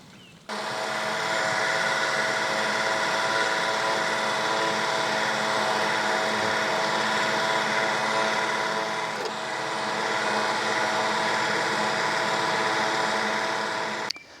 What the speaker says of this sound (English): let's get on, let's see how well this Cobra does